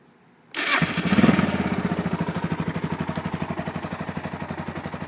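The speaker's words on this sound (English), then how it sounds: "now this is the Busa exhaust" A Suzuki DR650 motorcycle with a Busa exhaust, Kindtech mid pipe and oversized FMF header starts after a short silence, with a brief loud rev before settling into a steady, loud, rhythmic thumping idle close by.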